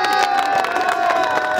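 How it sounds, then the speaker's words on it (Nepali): A crowd at a Lalitpur Metropolitan City anniversary gathering applauds and cheers steadily, the sound loud and continuous with a sustained tone running through it. "ताली"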